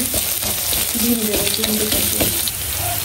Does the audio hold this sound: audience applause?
no